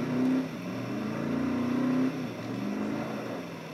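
A Bugatti Veyron in Test Drive Unlimited 2 drones at a steady engine pitch that rises and settles as it revs, loud and close, with a brief shift in tone partway through.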